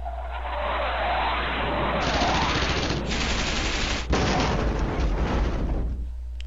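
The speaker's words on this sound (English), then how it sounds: "The airstrikes come in." Airstrike bombs and artillery in a war video game make a loud, continuous roar of rumbling blasts and crackling fire. A sharp jolt of impact comes partway through, then the noise drops off abruptly at the end.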